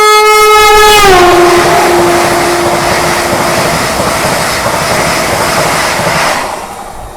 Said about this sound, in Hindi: पीछे से आती हुई 22345 पटना गोमती नगर वंदे भारत एक्सप्रेस